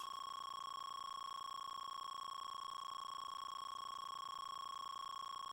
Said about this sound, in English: Let's listen to that beep beep beep while I open up Wigglytuff here